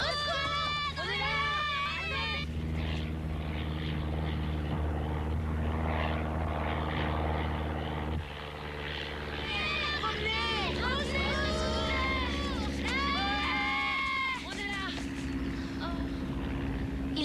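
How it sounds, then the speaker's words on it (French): A propeller airplane droning steadily in the background, a continuous low engine hum under shouting, excited voices and hurried talk. "Allez, Andy, dépêche-toi avant que l'avion soit parti."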